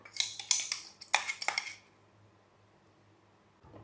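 Crushed garlic and ginger are moved into a bowl with a quick run of sharp metallic clinks and taps from a utensil, followed by near silence.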